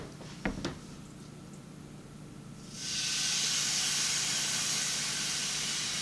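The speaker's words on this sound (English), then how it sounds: "I'm going to just put it straight into the hot skillet" Food goes into a hot skillet. After a couple of sharp knocks and a quiet stretch, a loud, steady hissing sizzle bursts in and continues without a break to the end.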